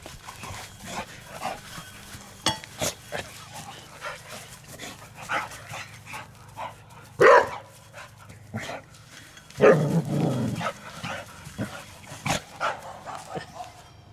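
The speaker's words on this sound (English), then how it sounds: "She's a cute dog." A dog yips, whimpers and barks in short, scattered bursts, with a couple of louder outbursts partway through, while people talk quietly in the background.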